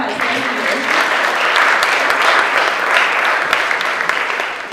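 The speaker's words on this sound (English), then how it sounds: "Can we get another round of applause?" Loud, close audience applause at a live startup pitch event, a full, steady round of clapping with sharp individual claps standing out, tapering slightly at the end.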